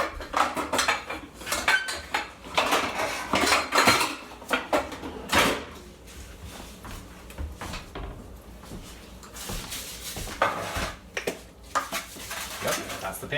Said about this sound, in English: Yep, that's the pan we're gonna put it in.